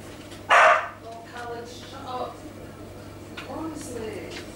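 Dogs on a walk at Tentsmuir Beach give one sharp, loud bark near the start, then a few softer yips and whines, with people talking throughout.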